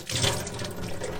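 Tap water runs steadily over beans in a kitchen sink for a brief quick rinse, a close, continuous splashing flow.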